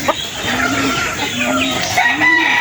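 Young roosters (stags) crowing in short repeated calls mixed with clucking, fairly close and loud, several birds overlapping over a background of farm ambience.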